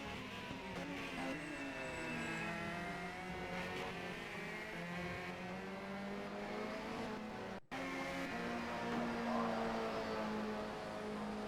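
Simulated race car engines in the rFactor 2 racing game during an online memorial race event, a steady, fairly quiet drone with shifting pitch that cuts out for an instant near the end before resuming.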